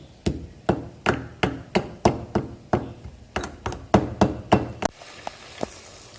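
Cardamom seeds being crushed for carrot halwa: a quick, even run of about a dozen sharp, loud pounding strikes close by. They stop abruptly, leaving a quiet room.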